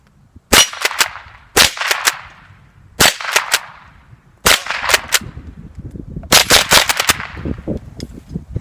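Gunshots from a Rossi Model 62 .22 pump-action rifle fired at close range outdoors, loud sharp cracks in quick clusters of one to three, then a rapid final burst, each followed by a short ringing decay.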